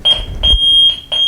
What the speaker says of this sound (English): it's starting to beep low battery